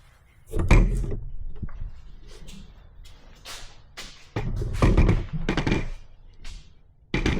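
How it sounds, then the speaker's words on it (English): A BMW pannier is mounted on an R1300GS Adventure motorcycle, with a series of plastic clunks, taps and a solid latch snapping shut, several close knocks scattered among quieter handling noises. "And then just fold down the latch in the back."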